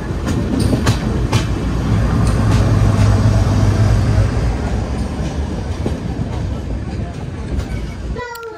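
The Amrapali Express, train 15708, runs along the rails between Amritsar and Ambala with a loud steady rolling roar, rhythmic clicks over the track joints, and brief squeals, heard close from on board with some talk mixed in.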